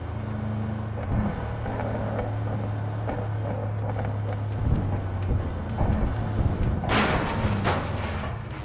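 Boat engine in Cyberpunk 2077 runs steadily throughout, a loud continuous motor drone with water wash and occasional rumbling swells, no talk.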